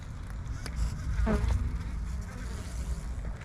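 A low, continuous buzzing hum of many honeybees clustered in a hive in late December fills the background, steady and droning, with a few faint knocks on top.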